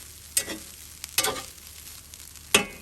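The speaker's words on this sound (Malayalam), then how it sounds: "അത് കഴിയുമ്പോൾ നമുക്കൊന്ന് ഫ്ലെയിം കൂട്ടി വെച്ച് 2 മിനിറ്റ് നന്നായിട്ട് ഇതെല്ലാം കൂടെ ചൂടോടെ നല്ല ചൂടോടെ മിക്സ് ചെയ്തെടുക്കുക." Chicken fried rice with carrot, cabbage and egg stirred in a hot pan, with three or four scraping strokes of a spatula over a faint sizzle and quiet gaps between them.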